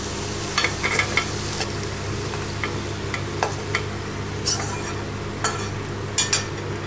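Garlic cloves fry in a generous amount of sesame oil for a garlic and curry leaf chutney, a steady close hiss broken by scattered ticks and scrapes of a spoon, with no talking.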